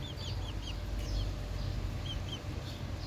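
Türken chickens and a rooster on a small farm cluck and chirp in short, repeated calls over a low, steady background rumble, the bird sounds fairly close and moderately loud.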